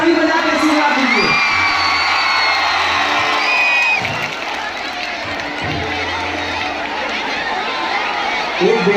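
Large audience at a Bhojpuri stage show in Mumbai cheering, whooping and clapping in a dense continuous roar, with shouts rising over it and a voice talking over the crowd.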